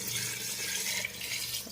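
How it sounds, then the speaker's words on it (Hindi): Water poured into a cooking pot of mutton curry with potatoes, a brief close continuous splashing gush. "पानी देदेवा"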